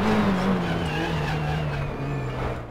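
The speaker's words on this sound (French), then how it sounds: "Oh, et encore des roues bloquées à l'extérieur" Locked wheels on a race car in the racing game RaceRoom give a sustained tyre squeal, a sliding whine that holds and slowly drops in pitch. A loud engine drone runs underneath.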